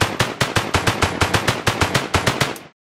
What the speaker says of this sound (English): so our firing sound is working perfectly.